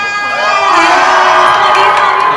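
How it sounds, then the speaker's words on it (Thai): A crowd of children screams and cheers loudly and continuously at a stage launch event for a tourist card, a dense high-pitched roar sustained throughout. "เด็กๆขอเ สียงกรี๊ดกับพี่วันอีกครั้งหนึ่งค่ะ"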